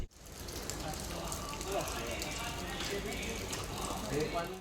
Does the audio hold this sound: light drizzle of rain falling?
yes